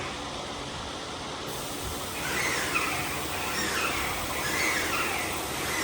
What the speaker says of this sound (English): Trying to get the hang of spraying.